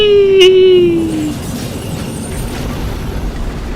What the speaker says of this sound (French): YOLO! Explosion!